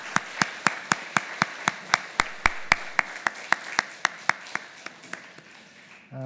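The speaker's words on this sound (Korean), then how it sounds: "우리 수고하신 우리 성가대원들을 다시 한번 여러분 박수로 격려해 주시면 고맙겠습니다" A church congregation at a Christmas service claps in steady unison for the choir after its cantata, a regular rhythm of sharp claps about four per second, fairly close, ending abruptly.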